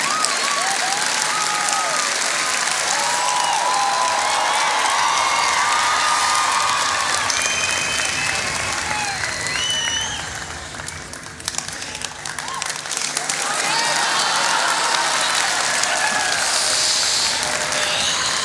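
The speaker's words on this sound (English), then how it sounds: "I want to show you what inappropriate clapping looked like." An assembly audience claps and cheers at length, with whoops and children's shouts over dense applause that briefly thins midway before swelling again.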